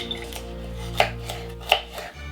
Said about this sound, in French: Radis comme ça, on coupe comme ça, en deux et en deux.